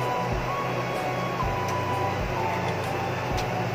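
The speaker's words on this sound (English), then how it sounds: "Medyo maingay dito kasi nakabukas yung aircon." An air conditioner runs indoors, making a steady, unbroken broadband hiss and low hum that fills the room at a constant moderate level, with no speech over it.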